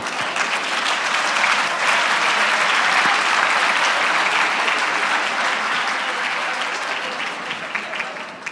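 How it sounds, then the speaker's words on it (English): An audience at a workplace leadership talk breaks into sustained, dense applause, loud and even for several seconds before tapering slightly at the end. "Give yourselves a round of applause."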